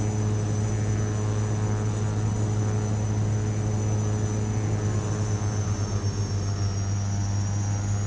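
A Carenado King Air C90 twin turboprop cruises in Microsoft Flight Simulator with a steady, loud engine drone and constant low hum holding evenly throughout, no voices over it.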